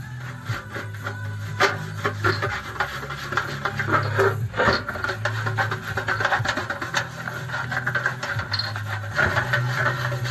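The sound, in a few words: scrubbing an old outdoor lantern with an old toothbrush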